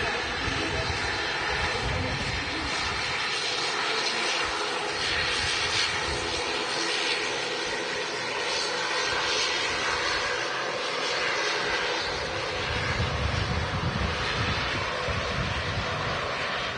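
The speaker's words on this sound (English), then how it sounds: "Goes a Ryanair 737-800. Heading off to Nantes in France." A Ryanair Boeing 737-800 departing Manchester Airport, its jet engines roaring in a loud, sustained rumble with wind buffeting the microphone throughout.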